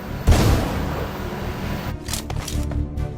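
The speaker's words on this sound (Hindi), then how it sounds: "अब ये गोली चली तो, पर कहां से चली ये न समझ में आया।" A burst of gunfire in the battle royale game BGMI, a heavy boom near the start followed by several sharp, rapid shots later on, loud and alone without talk.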